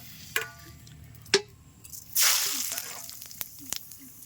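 Whole cumin seeds dropped into hot oil burst into a bright, crackling sizzle that swells suddenly, then settles into a fizzing crackle with a few sharp clicks and taps nearby, no talking.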